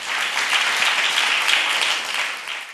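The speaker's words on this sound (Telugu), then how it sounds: "దేవునికి బిగ్గరగా చప్పట్లు కొట్టి అని మహిమపరచుదాం" A church congregation claps loudly together, a dense, sustained burst of applause that fades slightly at the end.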